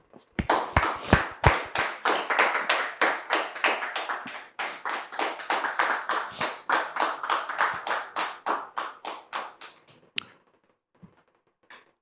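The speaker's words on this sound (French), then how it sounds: "Dame Nguessan que nous recevons ici maintenant, sous vos applaudissements, s'il vous plaît." A studio audience on a French-language talk show claps to welcome a guest, a dense run of sharp, rhythmic hand claps that thins out and stops after about ten seconds, with no talking over it.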